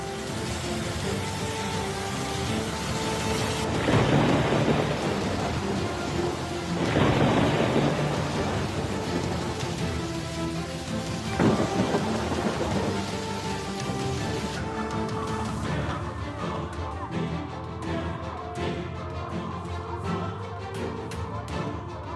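Heavy monsoon rain pours in a steady, dense roar with rumbles of thunder rolling through at intervals; no voices.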